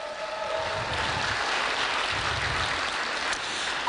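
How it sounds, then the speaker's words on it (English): Sustained audience applause at an interfaith community event with speakers, a dense, steady wash of clapping that stays loud and even throughout with no voices over it. "So I want you to please give them a round of applause"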